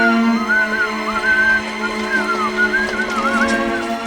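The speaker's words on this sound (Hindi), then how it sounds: "तू सीटी बजा रहा है" A person whistles a wavering, looping tune loudly and up close over a steady tonal background hum, continuous for the whole stretch with no talking.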